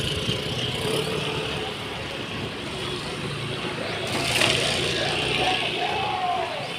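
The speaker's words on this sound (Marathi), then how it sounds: "गाड्या चालूच आहेत" Cars and trucks drive past in a continuous rumbling stream of traffic on a road during rain, holding steady and swelling slightly toward the end.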